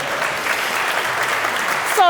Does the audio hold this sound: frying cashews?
no